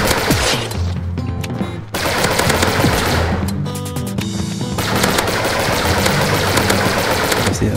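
Rapid pistol gunfire from a Five-Seven in the video game Energy Assault, dense bursts of sharp shots crackling close and loud alongside other weapons firing.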